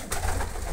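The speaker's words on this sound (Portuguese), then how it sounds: "Tem essa preta aqui que tá com esse pombo aí, ó." Pigeons coo softly in a brief, low murmur over a steady background rumble, with no voices.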